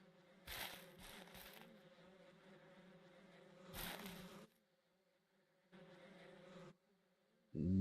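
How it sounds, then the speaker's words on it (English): Bees buzzing in a ranching video game, a low steady drone with several louder bursts of crackling or rustling and quiet gaps between them. "So we got some old bees there."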